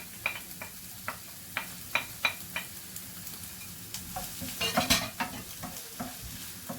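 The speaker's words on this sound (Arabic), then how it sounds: "ملي سخن ليا الزيت غادي ندير البصله ومع الثومه." Onion and garlic sizzle in hot oil in a pan, a steady frying hiss broken by repeated sharp clicks and scrapes of a utensil stirring, close and fairly quiet, with no talking.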